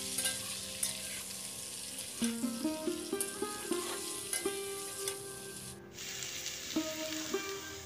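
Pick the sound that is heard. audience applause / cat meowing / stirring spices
stirring spices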